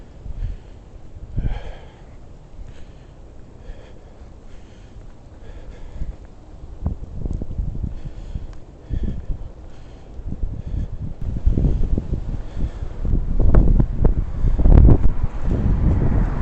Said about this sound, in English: the wind is so fucking powerful, man